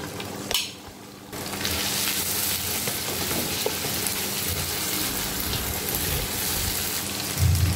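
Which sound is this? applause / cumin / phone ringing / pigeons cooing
cumin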